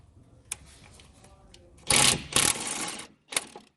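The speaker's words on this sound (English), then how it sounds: "the reason I'm using an impact, it makes the job easier and a lot quicker" Impact wrench removing the 17 mm brake caliper bolts on a 2009–2015 Honda Pilot, short sharp bursts of rattling hammering, one long burst near the middle and another brief one at the end, close and loud.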